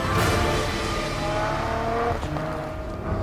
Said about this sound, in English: I'm driving a quarter of a million pound Ferrari on sheet ice and snow.